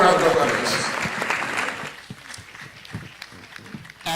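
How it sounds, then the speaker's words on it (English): Audience at an annual general meeting clapping for a labour council chairperson, a burst of applause that fades quickly after two seconds into scattered claps and low room noise. "a warm round of applause."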